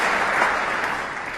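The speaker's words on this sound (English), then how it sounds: "Appreciated by this vast crowd in here this evening in the auditorium" Snooker crowd in a large auditorium applauding a shot during a Premier League match, a dense, steady wash of clapping that holds at even loudness throughout with no voices over it.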